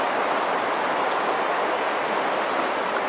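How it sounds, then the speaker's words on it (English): A creek rushes nearby in a gusty outdoor setting, making a constant, loud broadband wash of flowing water with no other sound standing out. "we're right next to a creek"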